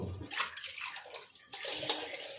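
Water poured into a cooking pot for a Bengali gota sheddo, a green lentil and vegetable dish cooked loose like soup: a steady splashing pour in two short bursts, close and moderate in level, with no voice over it.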